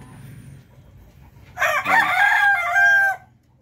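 Native Filipino layer hens on a small egg farm: a rooster crows loudly and close, a drawn-out harmonic call of about a second and a half, over soft background clucking and farm ambience.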